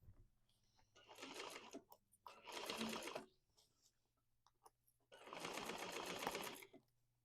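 A sewing machine runs in three quick bursts, stopping and restarting as it back stitches and then crosses a Y seam on a bag in a sewing class, with quiet pauses between runs.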